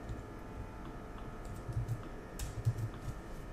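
Quiet clicking on a computer keyboard, a few soft key taps scattered at an uneven pace, then a short burst of louder keystrokes near the end, with no talking.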